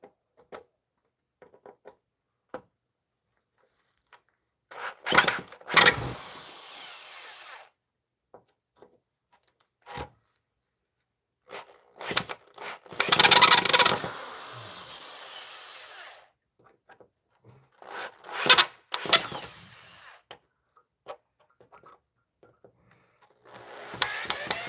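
Screws being backed out of wood with a power drill, several separate bursts of whirring, mostly short and one longer, with quiet gaps and small clicks and knocks in between.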